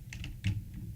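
Quick keystrokes on a computer keyboard while code is typed, a handful of light clicks in an uneven burst, close and fairly quiet.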